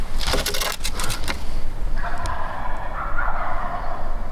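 Several wild turkeys gobble in rapid, rattling bursts, loud and nearby, followed by softer calling in an otherwise quiet outdoor setting during a turkey hunt.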